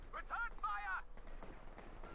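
A flak half-track in a strategy video game fires bursts at suppressed conscript troops, giving quick sharp gunfire cracks up close over a busy battle din.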